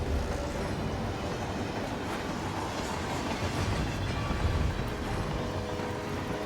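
A moving train rumbles steadily in the Hitman 3 video game's Carpathian Mountains level, a dense, continuous rolling roar of wheels and carriage noise with faint rhythmic clatter, loud and close throughout without a break.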